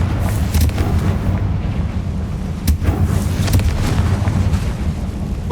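Confringo blasting spell firing in Hogwarts Legacy, a dense, loud barrage of booming blasts with sharp cracks near 0.6 and 2.7 seconds, continuous rumbling throughout.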